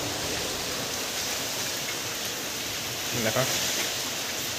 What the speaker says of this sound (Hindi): बहुत वर्षा है